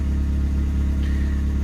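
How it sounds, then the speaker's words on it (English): Suzuki Swift ZC31S turbo engine idling steadily with the ignition switched off, a low continuous drone with a faint whine briefly rising partway through, close and unbroken. "The car is still running, but the ignition is fully off"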